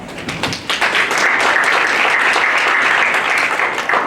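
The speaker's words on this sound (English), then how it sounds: "So please give yourselves a round of applause." A lively round of applause from an audience at a candidate forum, dense and loud clapping sustained throughout without speech.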